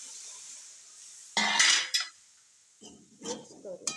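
Okra being stirred in a pan with a utensil for masala bhindi, giving a few short scraping and clinking bursts against a quiet background with no talk.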